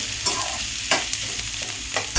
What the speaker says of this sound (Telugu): చూడండి, ఆనియన్స్ వేగుతూ ఉన్నాయి కదా.